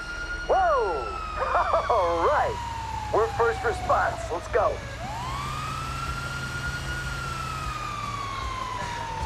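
Fire engine sirens in GTA V wail and yelp, rising and falling, with rapid warbling bursts, then a long steady wail continues over low engine rumble.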